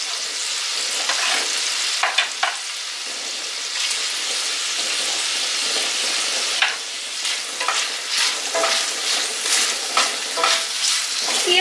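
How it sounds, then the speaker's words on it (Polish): Sliced sausage and rendered bacon sizzle steadily in a frying pan while making żurek, with close crackling and frequent scraping stirs over the continuous hiss. "I jeszcze razem smażymy, aż kiełbaska się przyrumieni."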